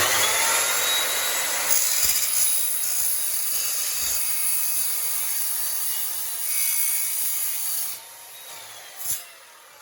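A saw cutting steadily through wood in a home workshop, a loud, continuous rasping hiss that holds for about eight seconds before easing off, then a final short scrape, close up with no talk.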